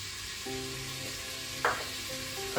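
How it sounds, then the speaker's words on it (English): Garlic frying in a pan while cooking spaghetti carbonara gives a steady, close sizzle and crackle that runs throughout, with a couple of brief sharper spits. "Now we can hear it's beginning to fry."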